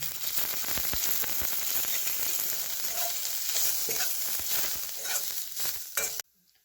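Peeled desi garlic, onion and ginger roast in oil in a pan for a village-style chicken rassa, giving a loud, steady crackling sizzle throughout that cuts off abruptly just before the end.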